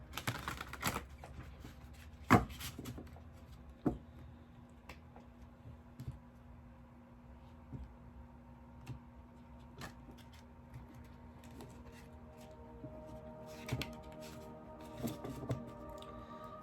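Tarot cards are shuffled by hand in a quiet room, producing soft, irregular taps and riffling clicks with a few sharper snaps, faint and close.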